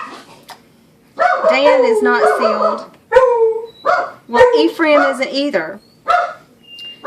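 Several dogs bark and yip in the background, a few sharp bursts mixed in with someone talking continuously in a room.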